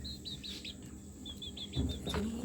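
Quail and baby chickens give thin, high chirps in quick repeated series, soft and close, with faint scratching and shuffling underneath.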